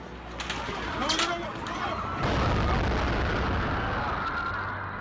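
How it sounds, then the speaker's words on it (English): A sudden deep boom at mid-clip swells into a heavy, sustained rumble, with faint chirps and distant voices in the background beforehand. "that was an intense explosion"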